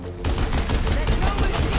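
A heavy weapon firing in the video game Horizon Forbidden West, a loud sustained burst of rapid booming blasts that starts abruptly, close and dense, mixed with game sound.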